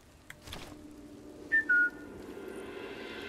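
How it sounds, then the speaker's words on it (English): A short two-note whistle in the video game Sniper Elite 5, rising then held, sounding clearly against a quiet game ambience with no talking. "Yep, still got that old whistle."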